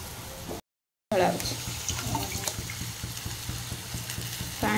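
Water pours into a pan while daliya upma cooks, a continuous splashing stream close by, briefly cut out once near the start and then resuming to the end.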